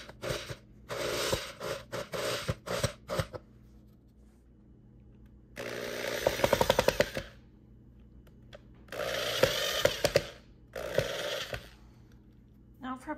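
A power drill drives screws in several separate whirring bursts, each a few seconds long, close by with quiet gaps between and a ratcheting clatter in some runs.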